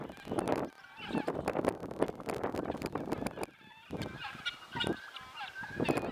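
Noisy guinea fowl call repeatedly in harsh, rapid bursts, several voices overlapping in a chattering, squabbling chorus with brief pauses between rounds.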